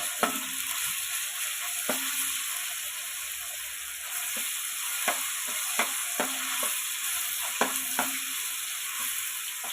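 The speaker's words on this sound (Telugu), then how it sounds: "ఆయిల్లో అల్లం పేస్ట్ వేగితే భలే స్మెల్ వస్తుంది" Ginger paste fries in hot oil with a steady, close sizzle that continues throughout. Occasional stirring taps and scrapes come at irregular intervals, and no one speaks.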